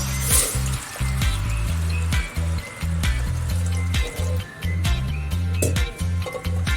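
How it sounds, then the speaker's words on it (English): Water splashes and pours from glasses into a metal pressure cooker on a gas stove amid clinks and clatter, with a low hum underneath throughout. "pour 3 glasses of water"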